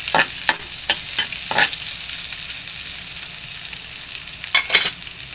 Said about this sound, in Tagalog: So, satay lang muna tayo ng ating bawang at saka sibuyas, luya.